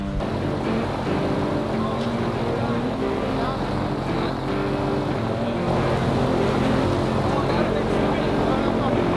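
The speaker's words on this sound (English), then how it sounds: "we're gonna crank the boat up, keep going up" An airboat's engine roars steadily and continuously at speed, loud like a large propeller-driven boat, with voices faintly mixed in.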